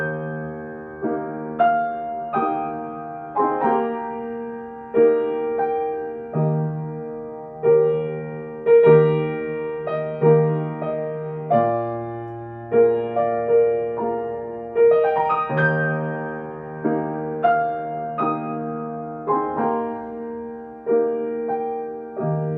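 Solo piano plays the trio section of a Chopin waltz, a steady lilting three-beat melody over bass chords, clear and close with no voices.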